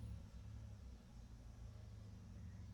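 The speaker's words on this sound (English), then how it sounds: "It's a blue car. Nice car." A blue car passes along the street nearby, a steady low rumble of its engine and tyres that holds fairly even throughout, with no voices.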